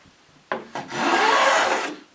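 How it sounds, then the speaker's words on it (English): A spokeshave rounds over the edge of a wooden storage cabinet in a few rasping strokes, with two short scrapes followed by one long, steady shaving pass, close and fairly loud. "underneath here I'll round these over just a little bit with a spoke shave"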